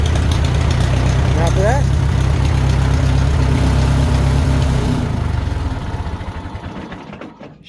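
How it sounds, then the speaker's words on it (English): A Farmall 450 diesel tractor engine with gas start idles with a loud, steady, close-up chug, a voice briefly speaking over it, then the running slows and dies away as the engine is shut down. "there you have a gas start diesel run engine"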